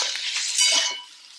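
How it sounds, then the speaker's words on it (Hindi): Homemade paneer tumbling into a pan of sautéed masala, giving a soft clatter and light sizzle with faint utensil clinks, close and steady, no talking. "अब मैं इसमें पनीर डाल दूंगी।"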